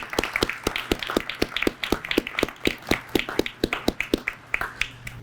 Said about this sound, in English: please give your families a round of applause.